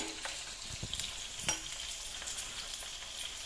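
Oil deep-frying in a home kitchen gives a soft, continuous crackling sizzle with scattered small pops, quiet and steady throughout.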